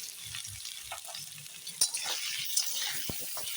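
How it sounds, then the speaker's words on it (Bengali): Potato and eggplant pieces fry in a pan with salt and turmeric, giving a soft continuous sizzle broken by a few sharp clinks and stirring scrapes. "আলু বেগুনটা ভালো করে ভেজে নিই"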